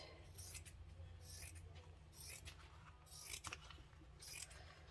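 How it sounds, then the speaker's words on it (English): Scissors snip through padded envelope packaging in a quiet craft session making a journal cover, with several short crisp cutting bursts spaced about a second apart, close and moderately loud against a low steady background hum. "And then I'll probably cut it"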